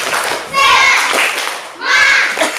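Indonesian primary-school children in a classroom doing a rhythmic 'tepuk semangat' spirit clap, loud chanted voices in two bursts with light claps and thumps underneath.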